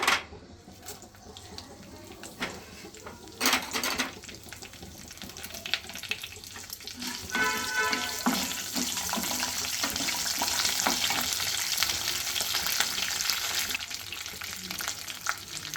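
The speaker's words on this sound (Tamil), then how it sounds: "வேர்க்கடலையும் முந்திரி பருப்பும் நல்லா பொரிஞ்சாச்சு. இப்போ கருவேப்பிலை போட்டுக்கோங்க." Peanuts, cashews and curry leaves fry in hot oil for tamarind rice, giving a steady crackling sizzle that swells as the leaves go in, with occasional stirring clatter and no talk.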